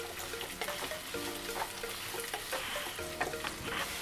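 Onions and green chillies fry in oil for a homemade veg biryani, giving a dense, continuous sizzle broken by recurring scrapes and clinks of stirring, close and fairly loud.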